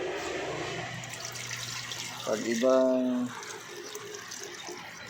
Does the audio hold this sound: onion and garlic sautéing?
no